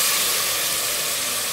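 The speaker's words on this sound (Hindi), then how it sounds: "अब मैं इसमें थोड़ा सा पानी ऐड करूँगी" Water is poured into a hot pan of sizzling spices for chana dal and gives a loud close burst of steam and hissing that holds steady, with no voices.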